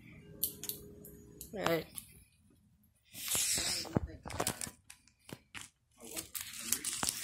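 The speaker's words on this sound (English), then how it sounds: "The MiTraveler has arrived. Let's open it. I need scissors." Scissors snip and plastic packaging crinkles and tears as a MiTraveler package is opened, in several bursts of rustling and cutting, with a person speaking briefly between them.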